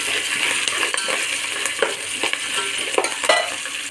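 Dry red and green chillies sizzle and fry in a pan while being stirred, with a steady hiss and scattered light scraping clicks throughout, close and fairly loud, no talking.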